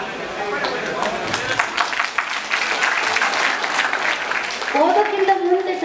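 An audience at a Kannada poetry recitation claps in a dense, sustained burst of applause; a voice begins speaking as the clapping fades near the end.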